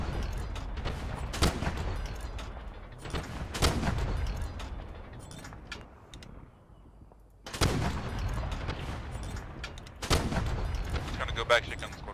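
Game gunfire and artillery booms in ArmA 3 during a Vietnam operation, heavy blasts in several bursts with a quieter gap in the middle, while voices talk over radio between shots.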